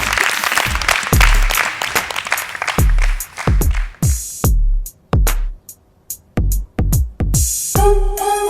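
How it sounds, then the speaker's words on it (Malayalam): Audience applause at a Malayalam TV studio show, heard as loud bursts of clapping broken by short silent gaps, with a brief tonal sound at the very end. "അതുകൊണ്ട് എല്ലാവരും ഒരു കൈയടി."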